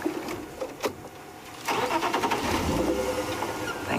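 A quiet little safari car called Rusty starts up outdoors, a brief cranking followed by the engine catching and running steadily as it begins to move off, loud and close with no talk.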